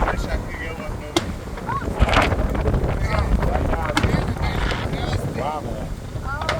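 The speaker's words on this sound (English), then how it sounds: "Wind blowing too." Wind gusting outdoors during a thunderstorm, a steady loud rumble of buffeting across the microphone with occasional sharp knocks, while people talk over it.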